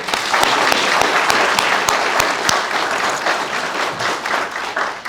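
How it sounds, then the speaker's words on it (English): An audience at a Trooper of the Year awards ceremony claps in sustained, dense applause, loud and close, with no speech. "Let's give him another round of applause."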